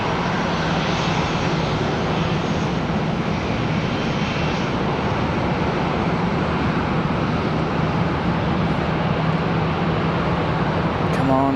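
An Etihad airliner bound for Abu Dhabi taking off at Charlotte Douglas airport, a loud, continuous jet engine roar that holds steady throughout, with a person talking over it.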